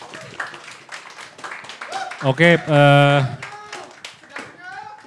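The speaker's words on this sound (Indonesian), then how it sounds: "Tepuk tangan untuk kami semua" A short burst of audience clapping rises briefly at a talk event amid speech and a sung or held vocal tone; talk continues around it.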